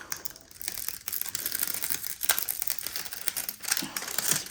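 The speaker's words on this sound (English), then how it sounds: "I'm gonna have to use my scissors and cut off" Scissors cut open plastic packaging on a hanging storage diamond painting kit, giving close, crisp crinkling and sharp snips in irregular bursts, with no one talking.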